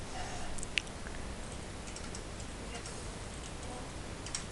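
Light ticking keystrokes on a computer keyboard while a command is entered in a Minecraft Bukkit plugin console, scattered faint clicks with one sharper tap near the start, over a steady background hiss.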